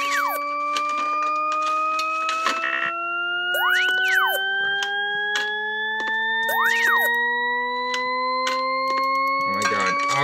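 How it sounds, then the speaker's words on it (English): An insistent electronic alarm keeps beeping in the horror video game Mario's Nightmare, a mod of Arthur's Nightmare: rising siren-like tones and repeated sharp beeps play loudly and steadily throughout. "make that beeping stop!"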